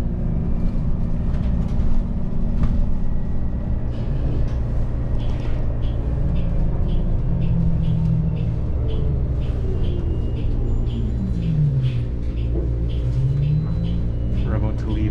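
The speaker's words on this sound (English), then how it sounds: "can even hear the electric motor" An electric Brampton Transit bus pulls out with a motor whine that climbs and falls in pitch above a low road rumble, with muffled voices in the background.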